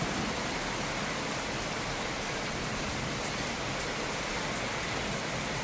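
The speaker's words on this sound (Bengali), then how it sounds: "খুব জোরে বৃষ্টি হচ্ছে" Heavy rain pours down in a steady, loud, unbroken roar with no pauses and no voices.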